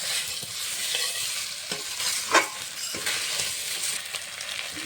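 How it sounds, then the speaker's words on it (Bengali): Fried rohu fish with potatoes, tomato and spices sizzles in a pan while a spatula stirs and scrapes it in a few distinct strokes, close and steady, with no talk. "ভেজে রাখা মাছ মাছটা দিয়ে কষিয়ে নেব আলুর সঙ্গে মশলার সঙ্গে"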